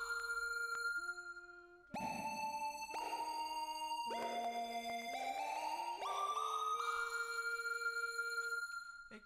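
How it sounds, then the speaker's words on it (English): A monosynth driven by a Yamaha Silent Brass trumpet through audio-to-MIDI conversion plays clean, sine-like sustained tones that step and glide between pitches, rising toward the end, clear and alone. "Here's a monosynth."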